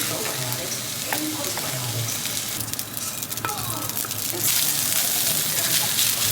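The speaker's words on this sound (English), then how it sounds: "I just like to scramble them literally in the pan" Chopped green onion whites scrambled in a hot pan, a continuous close sizzle and fry with scraping stirs that swells louder toward the end, with a voice talking over part of it.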